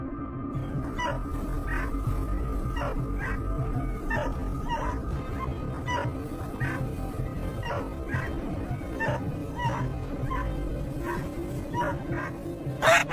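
Hunting dogs bark in a steady run of sharp, repeated yelps and barks, several voices overlapping at a moderate distance over constant outdoor background noise.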